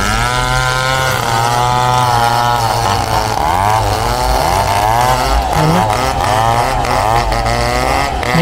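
Backhoe excavators at work at a landslide-hit construction site near a damaged bridge in Laurel, Batangas, make a loud, steady engine drone that runs through the whole clip, with a brief spoken word over it.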